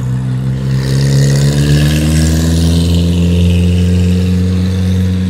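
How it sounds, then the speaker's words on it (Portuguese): A loud engine drones close by with a steady low hum, a car rumbling past continuously without speech. "vai passar um carro barulhento aqui"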